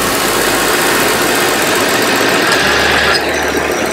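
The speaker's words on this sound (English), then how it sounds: "that the clutch right there is engaging" A car engine idles steadily while the A/C compressor clutch engages during an R-134a recharge. The hum runs unbroken and close, with a slight shift in tone partway through as the compressor kicks in.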